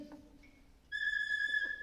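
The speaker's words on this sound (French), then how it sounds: "sifflet" A band percussionist blows a whistle in a community wind band concert, giving a clear, steady, piercing tone that starts abruptly after a brief quieter moment and holds to the end.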